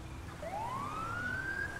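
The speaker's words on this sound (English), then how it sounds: "It does have emergency sirens and lights as well." Emergency siren of an incident response truck in the video game GTA 5, a single rising wail sweeping upward and holding steady, fairly clear over a low background rumble.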